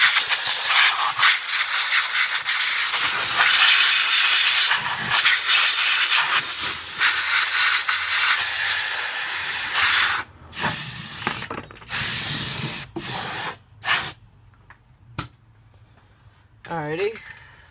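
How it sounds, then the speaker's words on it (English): Compressed air blasts dust out of a Dolmar chainsaw with its cover removed, a loud steady hiss that runs for about ten seconds and then breaks into short bursts, with talking in the background. "I like to take some compressed air and blow all the dust out of here."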